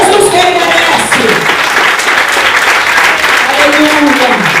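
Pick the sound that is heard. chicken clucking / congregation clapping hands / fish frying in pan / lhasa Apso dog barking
congregation clapping hands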